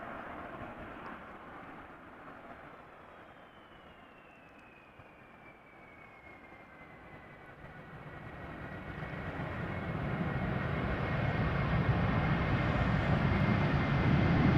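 Delta A330 airliner landing at Amsterdam Schiphol in showery weather, a broad distant engine roar that swells steadily louder as the thrust reversers build, with a faint descending whine drifting across, no voices.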